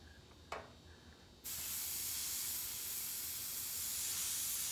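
An airbrush sprays paint onto a pumpkin or shirt, starting after a brief faint click with a loud, steady, close hiss that carries on to the end without talk.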